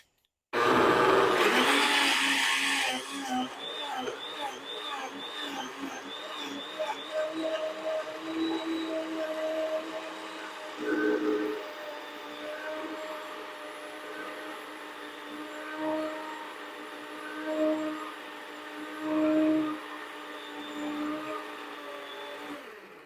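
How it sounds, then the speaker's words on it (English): A blender blending mint leaves roars loudly at first, then settles into a churning, fluctuating whir with periodic surges as the leaves are chopped. "the first thing I'm going to blend is the mint"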